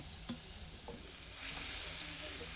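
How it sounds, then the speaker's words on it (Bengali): Freshly grated coconut stirred in a hot kadai (wok) for a sweet filling, giving a soft sizzle with scraping strokes that swells into a steady, louder hiss in the second half. "কুড়ে নিয়ে নারকেলটা আমি কড়াইতে দিয়ে দেব।"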